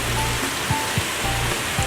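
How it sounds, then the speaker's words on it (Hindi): Heavy rain falls in the dark with water running past, a dense steady hiss, while a few low thumps and a faint hum sit underneath. "एकदम अंधेरा हुआ है और पूरा बारिश हो रहा है बहुत तेज़, देख सकते हैं पानी जाते हुए।"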